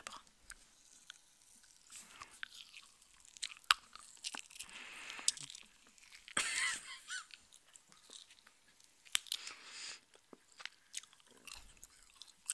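Someone crunching and chewing hard Halloween skull-shaped candy near the microphone, irregular crisp bites and chewing between quiet pauses, fairly soft overall.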